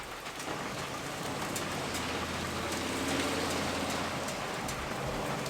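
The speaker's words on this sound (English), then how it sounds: "it's starting to slow down raining now" Steady rain falls outdoors during cooking of crispy buffalo chicken wings, with constant hiss and the patter of drops on surfaces, fairly close and unbroken, and a low rumble underneath.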